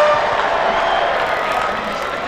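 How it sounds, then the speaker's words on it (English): Crowd at a Vitality Blast T20 cricket match between Hampshire Hawks and Essex cheering and roaring in a loud, continuous swell throughout, with no commentary over it. "Listen to that crowd."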